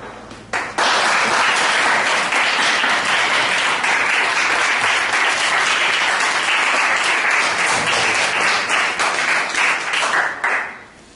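Audience applause for comedian Roberto D'Izzia at a stand-up show, a loud, dense, sustained burst of clapping that starts abruptly, holds steady for about ten seconds and then drops off.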